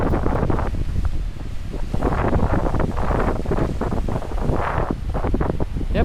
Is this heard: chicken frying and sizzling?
no